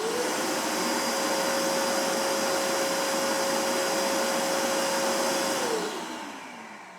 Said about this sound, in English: Ridgid 5 horsepower, 3 gallon little compact thing.